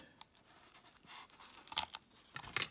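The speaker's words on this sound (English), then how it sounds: "And we can rip all this out." Foam and material being torn out of an E-flite Viper RC jet airframe, a few close, short ripping and crunching bursts with quieter rustling gaps between them, faint overall.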